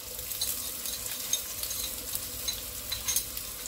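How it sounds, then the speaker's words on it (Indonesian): Shallots and garlic sauté in hot oil in a nonstick pan, a close steady crackling sizzle with light stirring scrapes and small pops. "Tumis hingga layu dan berbau harum"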